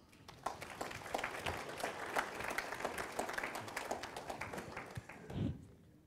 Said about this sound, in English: So let's give our moms a round of applause